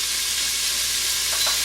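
Thick-cut bacon frying on the saute setting of an Instant Pot, a steady broad sizzle throughout, fairly loud and close with no voices.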